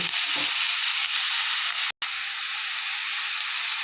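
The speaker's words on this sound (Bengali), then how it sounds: "পেঁয়াজ ভাজিতে আমি দিয়ে দিলাম তিতা করলা, আলু" Bitter gourd and potato fry with onion in a pan, a loud continuous steamy sizzle with a brief total dropout partway through, and no voices.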